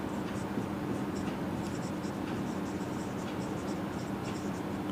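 A teacher writes on a board during a math class, with steady close scratching and tapping strokes over a constant low room hum and no talk.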